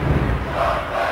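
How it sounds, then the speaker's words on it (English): A crowd in a wrestling arena in the WWF Attitude video game roars and cheers continuously, with a dense, loud wash of voices and no single voice standing out. "Listen to this crowd!"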